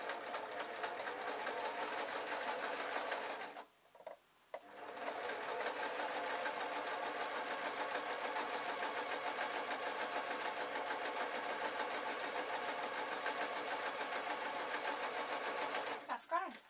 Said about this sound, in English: I'm giving it a bit more structural support by just running a couple of layers of stitches